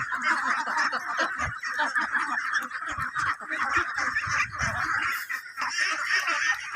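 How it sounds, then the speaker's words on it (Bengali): A large flock of about a thousand Khaki Campbell laying ducks quacks and honks continuously. The steady, dense chorus is moderately loud and carries on throughout with no pauses. "এক 1000 পিস হাঁস রয়েছে।"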